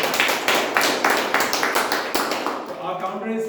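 Applause at a Toastmasters club meeting: a steady run of group clapping lasting about two and a half seconds, fairly close, before a voice starts speaking as it fades.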